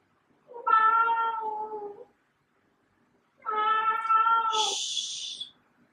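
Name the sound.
cat meowing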